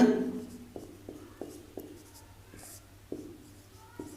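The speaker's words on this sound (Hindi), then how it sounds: "अब फिर वही लिखेंगे यूक्लिड" Handwriting during a maths lesson on real numbers, with a series of short pen or chalk taps and strokes at an uneven pace, close and fairly quiet, while a voice speaks faintly at the start.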